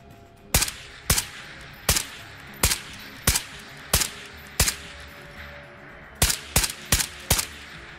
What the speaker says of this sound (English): There's some more shots popping off back there.